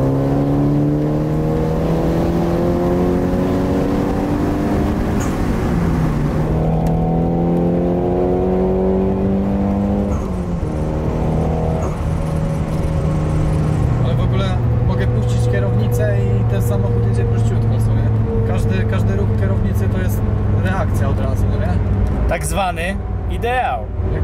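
A turbocharged Nissan 200SX engine revs up and down through rising and falling pitches, loud and close, with people talking over it.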